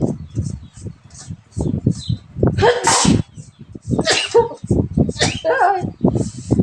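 Sneezing from a person slicing papaya with a knife for pounded papaya salad, a loud burst near the middle amid clatter and other sounds, with a brief voice around it.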